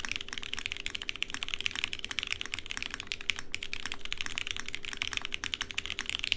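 Rapid, steady keystrokes on a mechanical keyboard with MX Brown switches on a polycarbonate plate, a dense run of fairly soft clacks with no voices.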